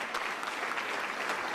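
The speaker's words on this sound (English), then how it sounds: "Give Renee Garcia, our city solicitor, a round of applause." Audience applause at a Philadelphia mayoral press update on a proposed Sixers arena, honouring the city solicitor; steady, dense clapping throughout a short burst, moderately loud and without speech.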